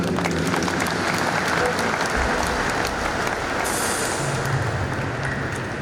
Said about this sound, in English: So God deserves a fantastic applause for creation.